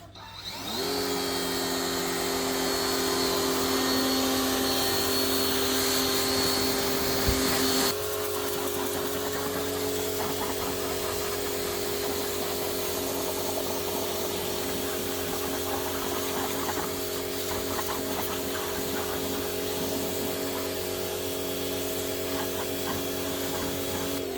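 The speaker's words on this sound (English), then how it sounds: "the new DeWalt cordless pressure washer." A DeWalt cordless battery-powered pressure washer used for car washing runs steadily with a loud motor whine and pump hum, close by, with a brief shift in pitch midway before continuing evenly, no voices.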